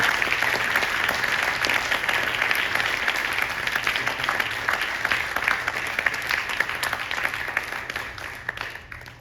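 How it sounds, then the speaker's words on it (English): Sustained audience applause at a saxophone arangetram recital, a dense, even roar of many hands clapping that tapers slightly toward the end, with a faint low hum underneath. "Can we give a round of applause,"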